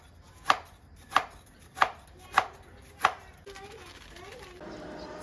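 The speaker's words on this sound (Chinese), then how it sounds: "切一下水豆腐" A knife chops through soft tofu, five evenly spaced crisp thuds on a board, followed by quieter kitchen movement.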